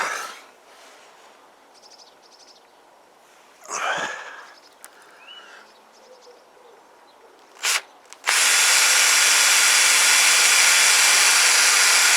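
An electric drill with a worn-out bit drills a pilot hole in motorcycle switchgear, whirring steadily and loudly for several seconds after a few brief bursts of noise and faint background sounds.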